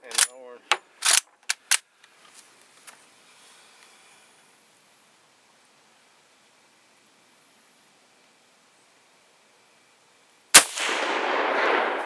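Mosin Nagant 91/30 rifle shots on a range, several sharp loud cracks in quick succession at the start, then a long quiet stretch before a burst of broadband noise near the end.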